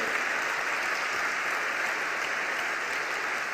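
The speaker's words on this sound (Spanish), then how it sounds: "que le damos un gran aplauso" A church congregation applauds, steady dense clapping from many people that fills the room evenly at moderate loudness with no pauses or voices above it.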